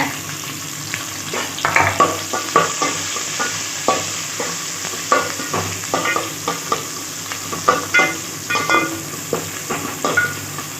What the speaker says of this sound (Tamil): எல்லாத்தையும் போட்டு லைட்டாக வதக்கிடுங்க